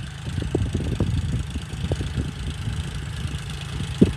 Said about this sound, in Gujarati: હાલો જો આ બાજુ ટ્રેક્ટર આવે